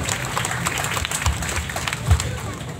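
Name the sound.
audience applause at church anniversary celebration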